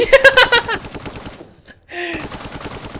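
Gunfire in the building-sandbox game Brick Rigs: a dense, rapid burst of automatic shots opens, then quiets into a short near-silent gap before another steady mechanical blast resumes.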